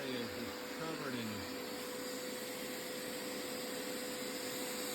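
A vacuum roars steadily as it sucks brown nicotine residue out of the interior of a 2006 Acura TSX, a loud continuous whine with a speaking voice briefly over it at the start.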